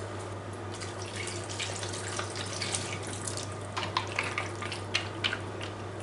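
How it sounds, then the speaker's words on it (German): Water poured into a green pasta bake with broccoli and minced meat, a thin steady trickle running for several seconds over a constant low kitchen hum. "also gebe ich einfach ein bisschen Wasser mit rein"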